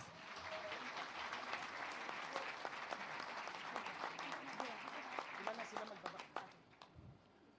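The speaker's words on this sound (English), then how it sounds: "Ladies and gentlemen, a round of applause." An audience applauds after the unveiling of the Dusit D2 Hotel Davao marker at a ceremony attended by President Rodrigo Duterte; sustained, dense clapping fills the hall for several seconds, then thins out and stops near the end.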